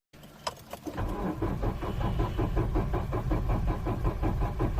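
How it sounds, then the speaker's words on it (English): A car engine with a weak battery cranks slowly, giving a steady, laboured, rhythmic churning that continues without catching. It is close and loud throughout, after a brief click and jingle at the start. "a slow engine crank when you try to start your vehicle"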